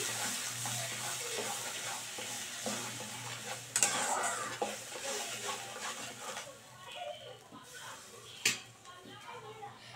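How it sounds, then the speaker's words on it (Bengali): Yogurt being stirred into a paneer gravy in a pan, with a soft sizzle and repeated scraping of the spoon against the pan, close and steady, and a voice faint in the background. "দইটা অ্যাড করে দিয়ে এবার মিশিয়ে নিচ্ছি।"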